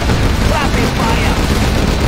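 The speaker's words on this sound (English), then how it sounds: "Rapid fire!" Rapid gunfire in the strategy game Generals Zero Hour: a loud, dense, unbroken barrage of crackling shots and booms that fills the whole stretch, with voices mixed into the din.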